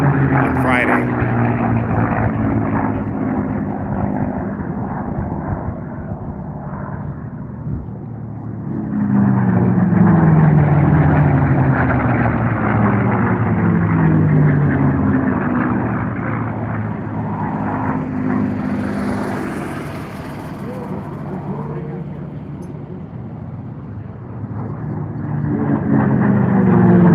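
Unlimited class racing airplanes roar past at the Reno National Championship Air Races, a continuous loud propeller-engine drone that swells and fades with Doppler pitch sweeps as they pass, and an announcer talks over the noise.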